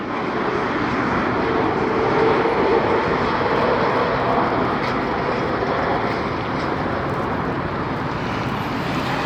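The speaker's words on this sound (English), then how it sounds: "Alright, in their MAX 9 jet, here we come." A Spirit Airlines Boeing 737 MAX 9 jet arriving at LAX, heard as a steady, loud broadband engine roar that holds constant throughout with no talk over it.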